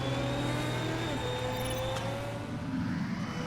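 Racing car engines in the Motorsport Manager game drone at a steady high pitch with a slowly shifting whine, loud and constant over several seconds.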